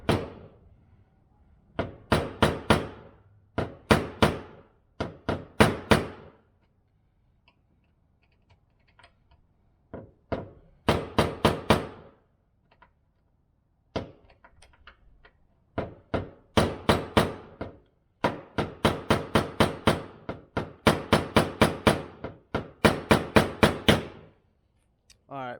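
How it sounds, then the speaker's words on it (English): Sharp metallic hammer strikes on a mini flathead screwdriver come in quick bursts of several blows, separated by short pauses, close and fairly loud, while removing a broken Toyota Tacoma antenna. "we're gonna use a flathead, a mini, and a hammer, and basically gonna hit this little crevice here"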